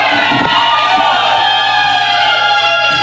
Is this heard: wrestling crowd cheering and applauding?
yes